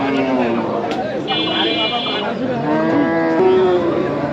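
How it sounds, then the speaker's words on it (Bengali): A large Sahiwal bull lows loudly at a busy cattle market, its deep drawn-out moos close by over steady crowd noise and nearby talk. "অনেক বড় ষাঁড়।"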